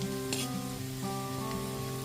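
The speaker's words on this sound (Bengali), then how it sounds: "এক টেবিল চামচ রসুন কুচি 30 থেকে 40 সেকেন্ড ধরে একটুখানি ভেজে নিচ্ছি" A tablespoon of chopped garlic fries over a low gas flame in a pan for chilli paneer, giving a steady, close, continuous sizzle with no speech.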